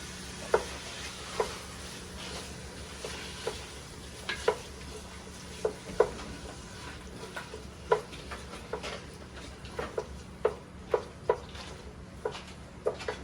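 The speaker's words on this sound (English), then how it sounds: "and then we're gonna just go ahead and saute these." Tomato paste mixture sautéing in a pot for Bahamian pea soup, a low steady sizzle under regular spoon clicks and scrapes against the pot, close by and with no voices.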